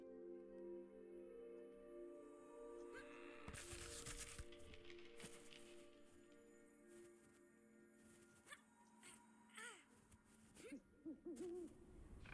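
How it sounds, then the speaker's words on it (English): A spirit owl in the video game Never Alone (Kisima Ingitchuna) hoots in soft, repeated calls over a steady tonal game soundtrack, with scattered rustling effects building toward the end. "You're an owl spirit again."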